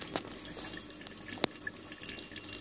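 Distillate dripping from a bubblecap still into a collection jar, sparse faint drips and one sharper splash against a soft continuous background hiss.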